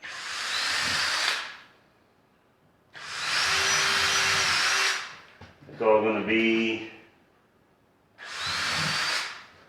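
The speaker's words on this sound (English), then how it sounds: "you just randomly drill the hole" A power drill boring a hole in wood whirs in three sustained bursts of a second or two each, separated by pauses, with a brief voice breaking in between the second and third.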